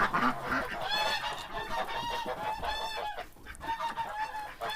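A flock of geese honk nearby from a pen in a Polesian village, overlapping, nasal calls, continuous and fairly loud, with a few clucks mixed in.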